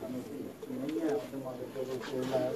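Soft, repeated cooing of black-faced pigeons, low and throaty, continuing over a steady background hum.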